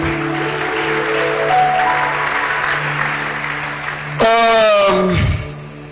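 Congregation applause in a church, a burst of clapping that rises suddenly near the end, loud and brief, following a steady sustained musical or vocal background.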